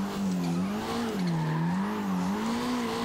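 A 1991 BMW M3 E30 drift build in Forza, engine droning close and loud with a wavering tire squeal that rises and falls steadily as the car slides through a drift.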